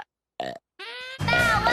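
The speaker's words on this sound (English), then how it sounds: "Our chair squeals like a pig." A chair squeals like a pig in a comedic dog cartoon, giving two short squeaky grunts followed by a longer, louder squealing burst, all close and with no talk.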